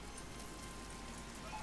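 Steady rain patters in the video game Icarus, a soft, even hiss of drops on surfaces that holds at a constant low level from start to finish.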